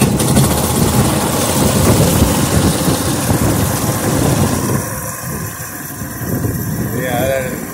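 A DC generator engine with a dual core PMA runs loud and steady just after being started, a dense rumbling drone that continues throughout with little change.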